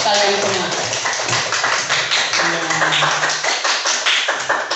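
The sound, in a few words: classroom applause for the students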